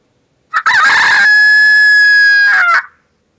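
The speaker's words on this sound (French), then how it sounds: "Très tôt, chaque matin, il saute sur la haie et pousse des cocoricots." A rooster gives a single loud, close cock-a-doodle-doo, a short opening note followed by one long sustained crow that tapers off, alone against silence.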